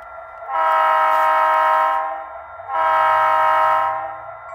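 A model train's horn, a Union Pacific locomotive on a layout, sounds twice in long, steady harmonic blasts, close and fairly loud, with a faint running rumble underneath.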